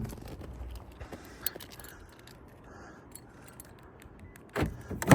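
A pickup truck engine cranks and catches in extreme cold around -17°, with a sudden loud burst near the end after several seconds of low outdoor rumble and faint jingling.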